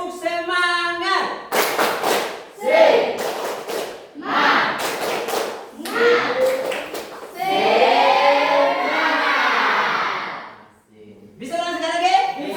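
A school class performs the 'tepuk semangat' spirit clap routine, with bursts of loud group clapping and thumping in rhythmic patterns alternating with children chanting together in a classroom.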